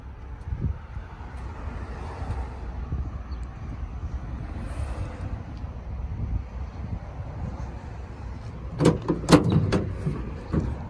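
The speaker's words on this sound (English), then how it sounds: "I'm gonna pop open the passenger side here for you" Passenger door of a 2004 Chevrolet Silverado extended cab being opened outdoors, a few sharp clunks and latch clicks near the end over steady wind noise.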